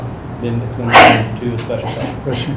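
A single sneeze at a school board of trustees meeting, a sudden short burst partly overlapping a person who keeps talking nearby.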